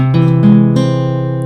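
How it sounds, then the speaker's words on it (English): An augmented triad rings out on guitar, with a few notes struck in quick succession over the first beat and then held as a sustained, bright chord that decays slowly, close and alone. "the augmented triad"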